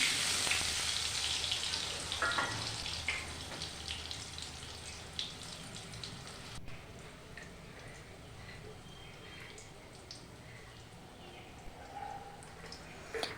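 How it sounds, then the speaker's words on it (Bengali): Eggplant slices frying in a pan of oil for a hilsa fish dish, a steady loud sizzle that starts strong and fades a little midway, with faint kitchen clatter and no talk. "সেই বেগুনগুলো আমি এর মধ্যে দিয়ে দিচ্ছি। বেগুনগুলো হালকা একটু ভাজা ভাজা করে নিচ্ছি।"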